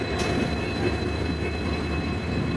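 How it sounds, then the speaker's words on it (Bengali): An Indian locomotive-hauled train departs from Bangladesh toward India, a steady low rumble and rolling drone of rail movement heard close and continuous, with no talking. "ট্রেনটি কিন্তু এই মুহূর্তে বাংলাদেশ থেকে ইন্ডিয়ার উদ্দেশ্যে রওনা করছে"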